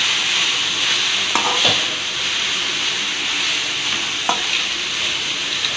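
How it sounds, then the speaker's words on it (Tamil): Shredded cabbage, carrot and capsicum stir-fried in a hot pan for a veg soya shawarma filling, a steady loud sizzle and hiss broken by a few scraping stirs of the spatula. "கேபேஜு, கேரட்டு, கேப்சிகம் எல்லாம் சேர்த்து நல்லா ஃப்ரை பண்ணலாம்."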